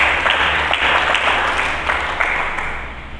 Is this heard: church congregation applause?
yes